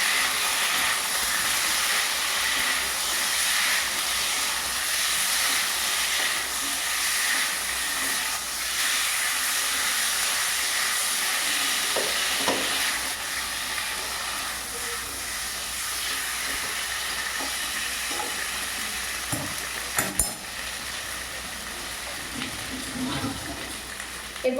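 Ginger paste sizzles in a hot pan while being stir-fried for a Bengali dhokar dalna, a loud, steady frying hiss that runs throughout, with a few clattering stirs near the end.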